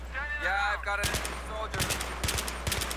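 Sharp bursts of automatic fire from a UMP-45 submachine gun during a Team Deathmatch round of Battlefield 3 on Kharg Island, loud and close, coming in several rapid volleys with short gaps between them.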